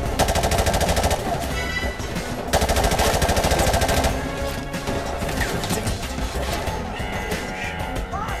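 Rapid automatic gunfire in Call of Duty 4: Modern Warfare Remastered, loud sustained bursts with brief pauses between them, dense and continuous across the stretch.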